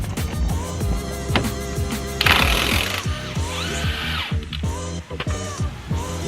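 A larger wrench breaks loose a stuck bolt while coilovers are installed on a Nissan 350Z, giving repeated close ratcheting clicks and metallic clanks with a brief louder burst of mechanical noise partway through.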